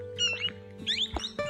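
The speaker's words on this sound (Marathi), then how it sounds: "किती सारा मोराचा आवाज येऊन आलेला आहे." Peacocks call in the early morning near a lake: a few drawn-out, rising cries over a steady low hum, moderately loud, with no talking.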